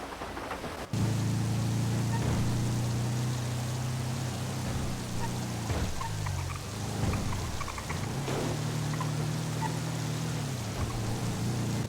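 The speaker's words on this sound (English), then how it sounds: "Yeah, I don't know if this rain's ever gonna stop." Steady rain falling in the game GTA V during a NoPixel roleplay session, a continuous broadband hiss with a low droning hum beneath, holding evenly throughout with brief dips.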